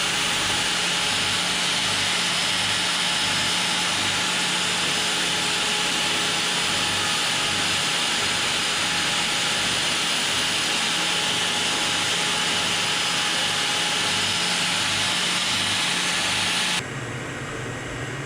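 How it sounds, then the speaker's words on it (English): Reciprocating sander working an ash live-edge gift tray, a steady loud buzzing drone that runs unbroken for most of the span before dropping to a lower, quieter hum near the end. "And more sanding with the reciprocating sander."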